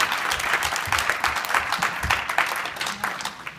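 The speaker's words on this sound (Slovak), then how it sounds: "Veľký potlesk pre toto dievčatko." A crowd applauds a young girl who has just recited at a Saint Nicholas (Mikuláš) children's event. Dense, steady clapping fills the room for several seconds, close and loud.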